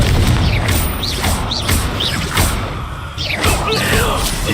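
Confringo blasting-curse explosions in Hogwarts Legacy: loud booms and whooshing spell blasts repeat every half second or so, alongside mechanical clatter, while a voice talks over them.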